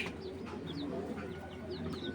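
Racing pigeons coo softly in a loft, low throaty calls repeating under a steady background murmur, with faint chirps from other birds mixed in.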